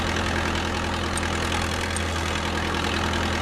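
A forklift engine idles steadily in a virtual reality training simulation as the machine shifts into reverse, a continuous low mechanical hum with no voices.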